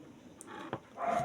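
A neglected dog gives a short burst of barking and whimpering, fairly close and moderately loud, lasting barely more than a second.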